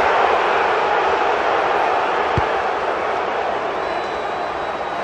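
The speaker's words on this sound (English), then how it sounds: "Try to shut out the crowd noise as he lines his kick up." A rugby stadium crowd at a Tonga versus Samoa World Cup match produces a steady, dense roar as a kick is lined up, with a single dull thud partway through.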